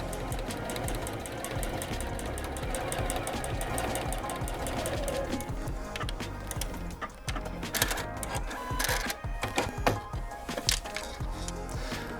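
A sewing machine runs steadily, stitching a small fabric zipper bag with a fast mechanical whir and rhythmic needle chatter, then gives a few louder clicks and handling knocks toward the end.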